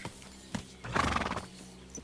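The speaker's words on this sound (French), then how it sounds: "Ça c'est le cheval du monsieur." A video game horse in Kingdom Come: Deliverance II gives a short whinny amid a few scattered hoof clops, fairly quiet and close.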